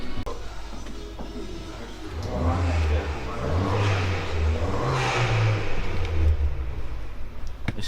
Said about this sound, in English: This is my new car, we've traded. Race car, it's fucking sick.